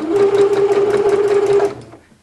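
A sewing machine runs steadily while stitching around the hem of an unlined dress, a loud close motor whir with rapid needle clatter for about two seconds before stopping and fading out.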